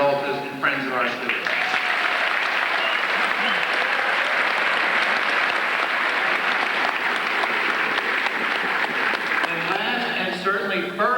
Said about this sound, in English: let's have a large round of applause for parents, grandparents, husbands, wives, family members, relatives, and friends of our students